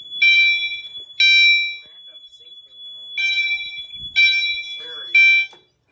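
An old fire alarm system under test gives repeated loud electronic beeping bursts with gaps between them, and a faint continuous high tone runs underneath throughout.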